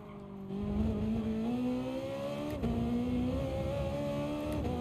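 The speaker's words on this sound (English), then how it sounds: "You can hear the engine struggle a bit as you come out of that corner" A race car engine strains while accelerating out of a corner in the GT Sport racing game. A steady, fairly loud drone rises gradually in pitch with a brief dip partway through, and no voices are heard.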